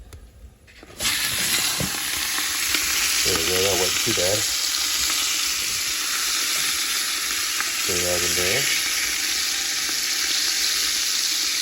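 Ground beef sizzles loudly and steadily in a hot pan after a sudden start, with a person speaking briefly over the constant frying hiss, while chili is being cooked.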